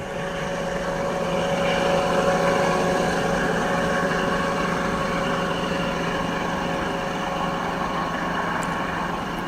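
An Alsthom diesel locomotive engine runs at Khlong Sip Kao railway junction in Thailand, giving a steady, droning low hum with harmonic tones that holds evenly throughout, without voices.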